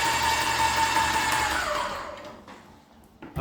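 A Graco Nova 395 paint sprayer pump running to fill its line with primer, a steady mechanical whirr that winds down and fades to near silence after a couple of seconds.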